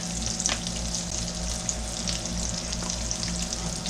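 Breakfast bologna frying in bacon fat in a pan, a steady close crackling sizzle that runs without a break and with no talking.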